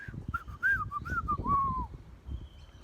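A slide whistle glides up and down in short swooping notes within a song, its bright tone over a low rhythmic backing before fading out.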